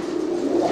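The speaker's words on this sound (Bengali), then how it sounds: "এই যে দেখেন এটা নর কবুতর" Fancy pigeons, including a male, coo at a pigeon sale. The cooing is a low, soft, continuous throaty sound heard close by, with no talking over it.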